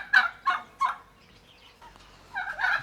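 A turkey on a farm gobbles in three quick bursts, pauses, then lets out another longer gobble, fairly close and clear in a quiet setting.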